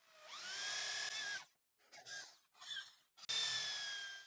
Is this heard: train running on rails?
no